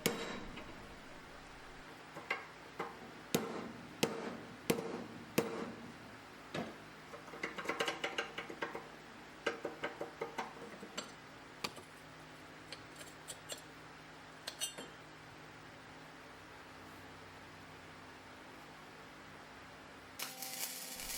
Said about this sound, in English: I moved over to starting to use hacksaw just because hacksaw blades are cheaper